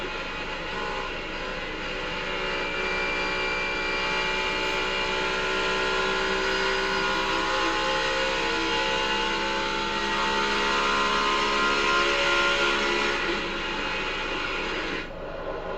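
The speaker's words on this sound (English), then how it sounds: "Xfinity onboard camera, riding with Reddick here, looking back at Briscoe." A NASCAR Xfinity stock car roars at Chicagoland Speedway from an onboard vantage, the engine note steady and loud, rising gradually in pitch at full throttle and dipping slightly near the end, with no talking.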